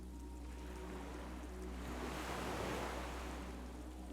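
Ocean waves wash against the coast in the video game Disco Elysium, a steady hissing surf that swells into one fuller, louder rush midway before settling back, heard alone with no voices.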